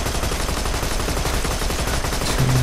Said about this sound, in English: Okay, time to shoot things